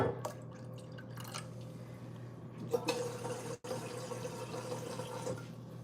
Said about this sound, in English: I'm going to put some of cold water and some of the hot water because I don't want to scorch or kill my sourdough.